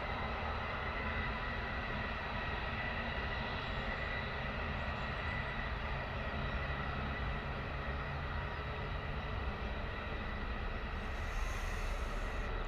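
A four-year-old SunExpress Boeing 737 Max 8 touches down on runway 27 at Bristol Airport with a steady, loud, broadband engine roar and rumble that holds unbroken throughout, with no voices.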